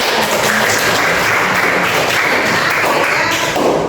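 Students in a classroom counselling session clap together, a loud, close, dense burst of applause that stays at full strength throughout without pause.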